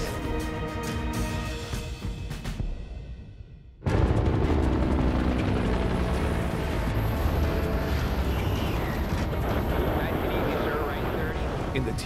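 A loud, steady roar of a seven-ton helicopter's rotors and engine fills the air after a brief quieter stretch with music.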